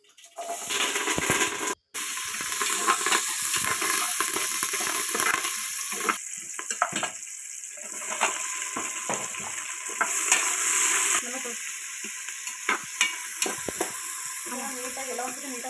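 Onion, tomato and curry leaves fry in oil inside a pressure cooker, a loud continuous hiss and sizzle with scraping stirs, a brief cut early on and crackling bursts toward the end.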